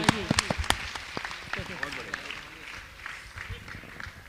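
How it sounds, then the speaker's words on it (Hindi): Audience clapping at a Jain religious ceremony, a Siddhachakra Mahamandal Vidhan at Shikhar Ji, with several sharp loud claps near the start that settle into a steady wash of applause under crowd murmur and voices. "जोरदार ताली तो बजाइए इनकी बहन के लिए।"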